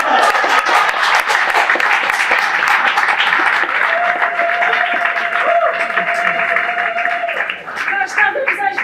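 Sustained audience applause rings out in a hall at the official opening of the Beira Book Fair, dense, even clapping from a large crowd lasting several seconds, a steady tone humming beneath it for a while.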